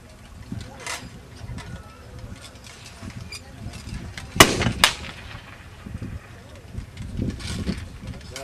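Infantry reenactors firing muskets at a Gettysburg, Pennsylvania event: a crackle of scattered shots, one sharp loud report mid-way with a close follow-up, over steady outdoor ambience and murmuring voices.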